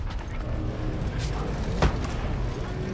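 A crane machine in the video game Guardians of the Galaxy runs with a loud, steady mechanical grinding and creaking hum, broken by one sharp clank near the end.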